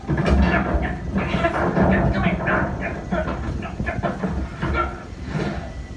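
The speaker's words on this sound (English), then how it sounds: "It's a train." A Walt Disney World Railroad train rumbles and clatters nearby, heavy rolling noise with rhythmic clacking, fairly loud and continuous.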